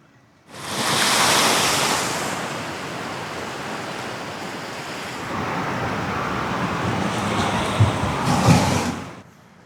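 Surf rolling onto Batu Hideung beach at Tanjung Lesung, a broad steady wash of breaking waves with wind, swelling and easing over several seconds, loud and close with no voices.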